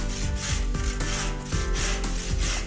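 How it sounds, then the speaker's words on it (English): A Studhawk 45 saw cuts a mitre in timber architrave with steady back-and-forth rasping strokes, about four or five rhythmic passes, loud and close with no talking. "we cut our mitre using our Studhawk 45"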